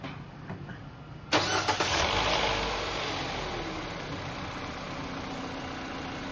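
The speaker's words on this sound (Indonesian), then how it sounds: "Terakhir kita coba starter mobilnya." A Mitsubishi Xpander Cross with a freshly fitted Amaron Onyx idling-stop battery cranks once and fires instantly, a quick starter whirr followed by a close, steady idle that settles for several seconds.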